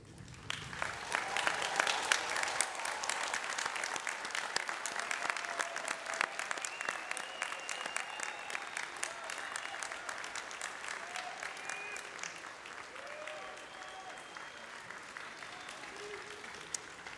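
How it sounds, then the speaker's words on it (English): An audience at a college convocation ceremony at Northwestern's Weinberg College claps steadily in sustained applause, a dense, even patter from many hands that gradually tapers off. "please now turn around and offer thanks with your applause."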